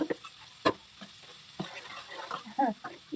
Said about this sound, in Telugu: కొద్దిగా బాగా బ్రౌన్ వచ్చేటట్టు మనం వేగాల